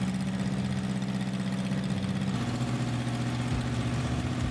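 A car engine idles steadily with a low, even drone through a newly welded exhaust muffler. The vehicle is a homemade BF Dune FAV build, and the engine note shifts slightly partway through.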